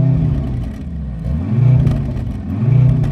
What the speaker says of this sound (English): This hybrid 4-cylinder sounds absolutely rubbish compared with the old car's awesome V8.